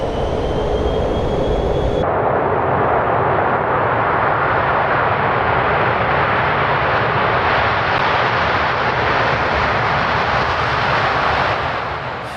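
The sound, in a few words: Avro Vulcan bomber Rolls-Royce Olympus engines at full power on takeoff roll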